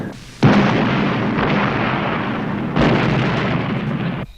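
Artillery fire in a 1982 Civil War epic miniseries, two heavy booming blasts about two seconds apart, each followed by a long rumbling roar that fills the clip.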